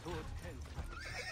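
A horse in the video game Assassin's Creed Brotherhood gives a faint whinny amid soft hoof clip-clop, quiet and mixed under background game sound and someone speaking.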